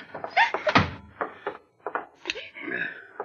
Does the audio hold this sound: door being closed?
yes